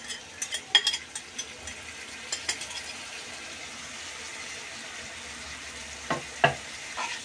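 Boiled cauliflower stalks fry with chilli powder in a pan, giving a steady close sizzle broken by scattered scraping and stirring clicks, louder near the start and end, with no voices.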